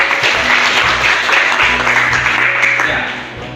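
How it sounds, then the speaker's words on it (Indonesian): Students in a school classroom break into a burst of applause, a dense round of hand clapping that fades out near the end. "Oke, tepuk tangan dulu."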